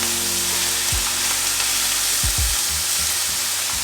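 Salmon patty mixture made from canned salmon being stirred in an oily pan, a steady close sizzle of frying with a few distinct scraping strokes of the utensil against the pan.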